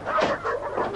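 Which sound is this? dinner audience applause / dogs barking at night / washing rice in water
dogs barking at night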